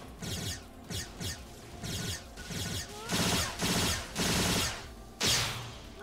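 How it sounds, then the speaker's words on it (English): Rapid bursts of gunfire from weapons in the video game Phantasy Star Online 2 New Genesis, loud and close, coming in repeated sharp volleys separated by brief pauses. "it is hard for me to shoot these guns."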